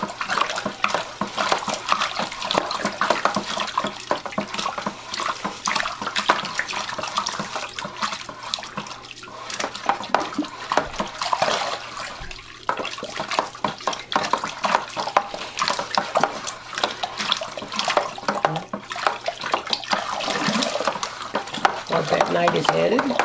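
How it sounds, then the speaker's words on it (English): Bentonite is stirred gradually into Cabernet Sauvignon wine kit must, a continuous close swishing and sloshing of liquid that keeps a busy, churning rhythm for over twenty seconds. "We will need to stir it in and add it gradually."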